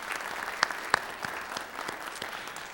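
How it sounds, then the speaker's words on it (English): Audience clapping at a township address inside a village theater comes as a sparse, fairly faint patter with a few sharper individual claps. "Round of applause for J.T."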